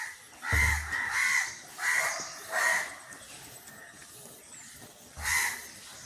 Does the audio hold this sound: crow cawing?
yes